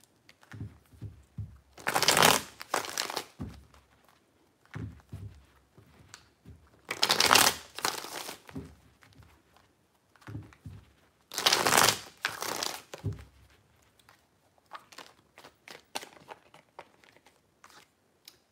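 Tarot cards are shuffled in three distinct bursts of crisp riffling, each a second or so long and separated by quiet pauses, followed by softer handling sounds near the end.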